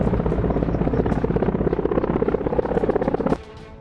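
Apache military helicopter flying, its rapid rhythmic rotor thumping loud and close, then cutting off sharply near the end.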